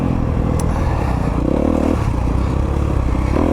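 A 2022 Honda CRF250RX dirt bike engine runs loud and steady up close, its note dipping and picking up again at a few points as the rider shifts gears.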